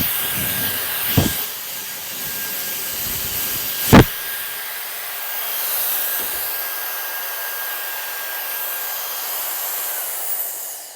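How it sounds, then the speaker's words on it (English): A hair dryer on its lowest heat setting blows steadily while hair is dried, a continuous airy hiss throughout, broken by a couple of brief sharp knocks. "So I'm going to go ahead and start blow drying"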